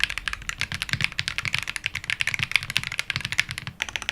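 Rapid, continuous typing on a budget mechanical keyboard fitted with Hall effect (HE) magnetic switches, heard up close as a dense run of light clacks.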